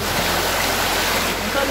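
Water from a natural spring pouring steadily near a cave, a dense, loud, close hiss of flowing water running unbroken through the moment.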